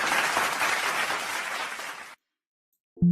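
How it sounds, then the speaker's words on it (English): A crowd's round of applause, dense and steady for about two seconds before stopping abruptly into silence, followed by a brief tonal blip at the end. "deserves a round of applause."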